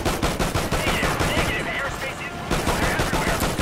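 Rapid, loud gunfire in Call of Duty Ghosts single-player combat, a dense stream of close shots with a brief lull in the middle before the firing resumes at full intensity.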